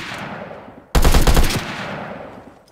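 Sudden loud burst of rapid automatic gunfire in a Fortnite match, a dense volley of shots lasting about half a second before ringing off into a fading tail.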